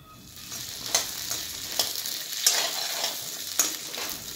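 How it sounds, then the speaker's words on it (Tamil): Garlic cloves, ginger and shallots sautéing in a pan over medium flame for a country chicken curry, a steady sizzle punctuated by four or five scraping stirs, close and clear with no talking. "இதில் 10 பல் அளவுக்கு பூண்டும் 2 இன்ச் அளவுக்கு இஞ்சியும் போட்டு வதக்கிக்கலாங்க"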